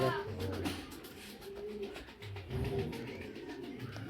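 Racing pigeons coo softly and repeatedly in low, throaty bursts, close by, over a faint background hum.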